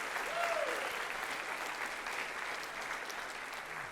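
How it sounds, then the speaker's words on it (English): A chapel congregation gives a big round of applause, a thick, steady wash of clapping that holds at an even level for several seconds, with a brief faint voice near the start. "would you give Gene and his wife a big round of applause"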